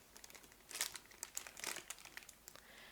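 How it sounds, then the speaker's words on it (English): A small plastic bag crinkles and crackles in a few bursts while a Blue Yeti USB microphone and its long USB cord are unboxed, close and quiet, with no talking. "something comes in one of these little plastic bags"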